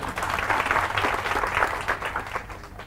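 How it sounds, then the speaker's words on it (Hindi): Audience applause at a sales training seminar, a steady wash of clapping at moderate distance lasting the full stretch and fading slightly at the end. "तो इनके लिए तालियां बजाओ एक बार।"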